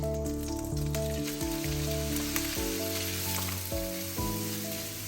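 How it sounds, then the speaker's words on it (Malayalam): Pieces of cut chicken sizzle in melted butter in a hot pan, a dense crackling fry running steadily throughout, with a few soft stirring knocks and no talk. "ഇനി ഇതിലേക്ക് ചിക്കൻ കട്ട് ചെയ്ത് വെച്ചിട്ടുള്ള ചിക്കനാണ് ചേർത്ത് കൊടുക്കുന്നത്."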